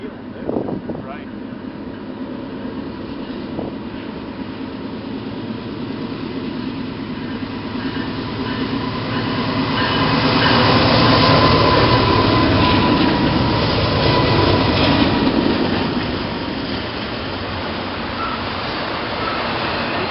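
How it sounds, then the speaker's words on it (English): A diesel locomotive with turbochargers rolls downhill, its heavy rumble and whine building to a peak midway before easing off, while a voice talks nearby. "You got them turbos running."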